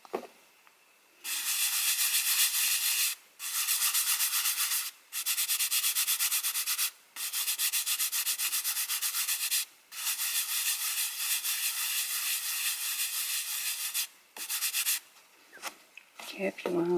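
Rubbing over a freshly pounced stencil makes long, steady abrasive swishes in several extended strokes, broken by short pauses and heard up close with no talking.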